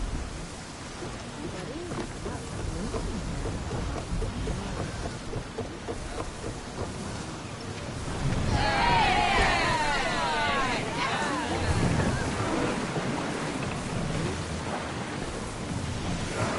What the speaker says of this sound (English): We are headed into a storm!